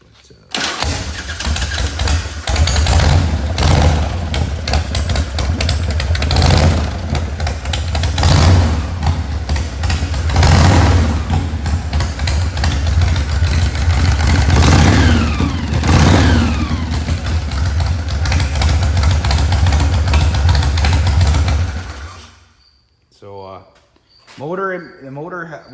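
A chopper motorcycle engine rumbles loudly at close range, idling and revving for about twenty seconds, then cuts off, after which a person speaks.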